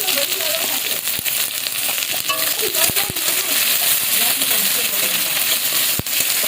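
Onions fry in oil with garlic paste, giving a steady close sizzle and crackle with a few sharp clinks of a spoon against the pan.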